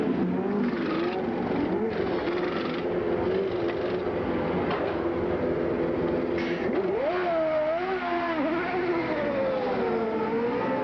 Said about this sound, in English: They're just going to get the 4 tires on, and let's just listen to the action here.